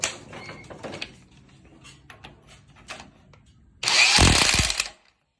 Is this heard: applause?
no